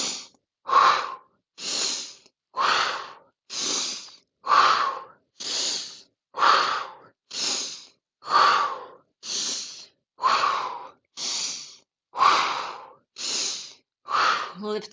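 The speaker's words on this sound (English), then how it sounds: "Big breathing." Deep, rhythmic breathing during a Pilates workout: about fifteen strong, audible breaths, inhales and exhales alternating steadily every second, close and clear with no talk.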